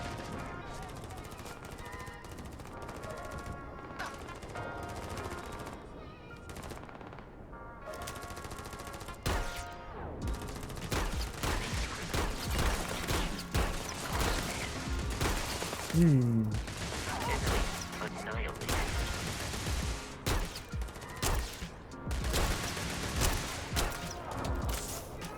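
Pistol fire in the space game Starfield, dense repeated shots and impacts over continuous game sound and music, with a person talking throughout.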